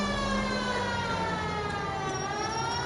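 A police car siren in a console driving game wails steadily and loudly on its own, with a constant engine-like drone underneath.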